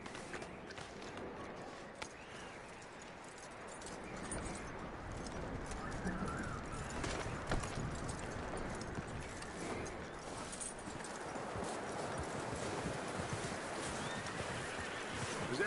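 A horse in the Red Dead Redemption 2 game, with a steady run of hoof clip-clops under a busy ambient bed and occasional whinnies. The sound is fairly faint, and no one speaks over it.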